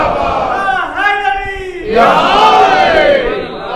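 A crowd at a majlis chants religious slogans in unison, loud and close, with a leading voice answered by a massed call that swells in the second half.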